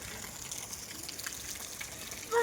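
Rainwater from a village runs into a flooded farm field after a sudden downpour, a steady watery rush that stays fairly faint and even throughout, with a brief louder sound at the very end.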